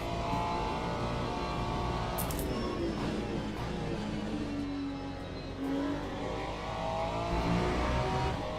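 A GT3 race car's engine drones steadily at Interlagos in a racing game, fairly quiet in the background, with engine pitch rising and falling through gear changes and acceleration, and no one talking.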